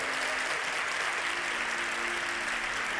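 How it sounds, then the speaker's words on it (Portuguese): A church congregation applauds with full force during a worship service, a dense continuous wash of clapping with no voices standing out. "E aqueles que creem, aplaudam o Senhor com toda a sua força."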